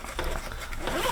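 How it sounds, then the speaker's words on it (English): The zipper on a Pokemon backpack is pulled open in one quick rasping stroke, close and clear over about a second. "You know that like you use the zippers to open it."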